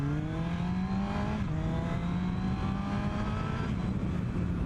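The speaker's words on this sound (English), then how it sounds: "let's listen to the engine," A restored modern classic superbike engine runs steadily at a smooth idle, its harmonic drone holding near and loud with slight pitch drifts and no talk over it.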